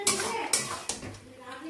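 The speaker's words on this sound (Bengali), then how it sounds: "চলো ভালো করে মিশিয়ে নিই।" Pasta and chow mein being stirred together in a pan: a few sharp clanks and knocks of a utensil on the metal, with scraping between them, close and fairly loud. A faint voice sits in the background.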